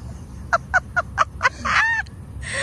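A chicken calls nearby: five short, evenly spaced squawks followed by a longer, drawn-out cackle, with quiet background between.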